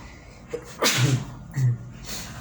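A single sharp human sneeze bursts out, near and loud, with a short sharp intake before it and a brief breathy sound just after, in an otherwise quiet indoor room.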